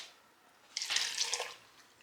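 Water poured into a pan while cooking Malaysian nasi kerabu, a short bright splashing burst of about three quarters of a second, close and fairly loud after a quiet start.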